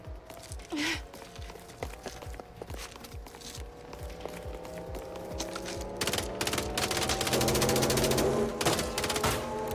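Video game gunfire from MindsEye rattles in rapid sustained bursts, mixed with running footsteps and a background game score, growing denser and louder toward the end.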